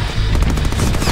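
Rapid automatic gunfire from the Deadpool video game, a dense, continuous burst of shots with heavy low-end thump filling the whole moment at close range, no talking.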